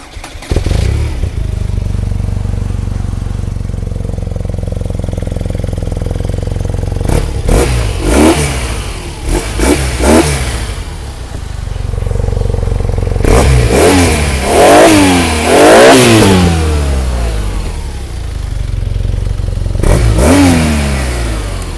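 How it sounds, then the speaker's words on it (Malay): A 2019 BMW R90 Urban GS motorcycle with about 51,000 on the clock fires up close by and settles into a steady idle, then gets several sharp throttle blips in separate bursts, loud and with no talking. "jom kita start tengok ini BMW R90 Urban GS"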